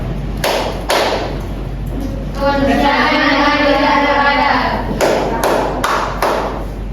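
Classroom clapping routine led by a teacher at an Indonesian elementary school, a series of sharp claps at a few clear points amid a continuous tonal chant from the students.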